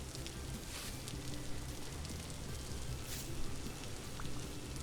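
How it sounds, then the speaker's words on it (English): Steady rain pours down in the survival game Vintage Story, a dense, even hiss of drops on surfaces that holds at a constant level throughout, with no speech. "A lot of people don't like rain sounds in games, but I think Vintage Story just works."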